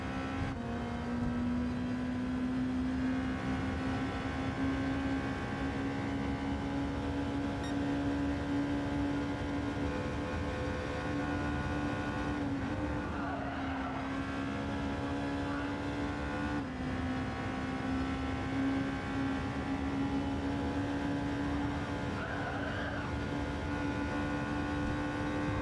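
A race car engine holds a steady, droning pitch through a long corner in Gran Turismo 7, with faint tyre scrub as the car slides wide, and the tone wavers only slightly across the whole stretch.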